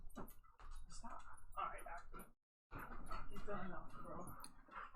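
Dogs playing rough growl, grumble and yap close by, in a continuous tussle with only a brief pause.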